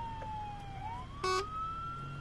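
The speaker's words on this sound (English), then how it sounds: "A car and a police car just drove past." Police car siren in the video game Arma 3, a single wailing tone that dips and rises as the car passes, heard moderately loud over low engine hum with a brief sharp electronic burst in the middle.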